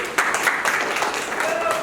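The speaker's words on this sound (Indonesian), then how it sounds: "Tepuk tangan sekali lagi." A crowd claps steadily for a couple of seconds, a dense patter of many hands at moderate volume with a voice mixed in.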